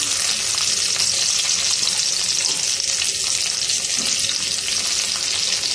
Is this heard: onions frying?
yes